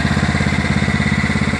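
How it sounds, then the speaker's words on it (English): A John Deere LA105 lawn tractor running on a gravity-fed gas tank conversion, its engine holding a steady, close idle with an even low throb throughout. "I've got a gravity fed gas tank now in my John Deere LA105. Look at that, it runs great."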